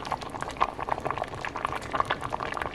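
Cabbage soup with tender vegetables, made without salt or oil, boils in a pot, giving a close, continuous bubbling with frequent small pops and plops.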